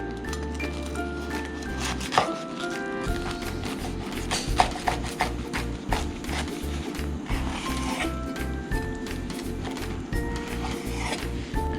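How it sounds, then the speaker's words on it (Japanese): A knife cuts celery on a board in a series of quick, rhythmic crunchy chops, close and moderately loud, with steady background music. "カットします。"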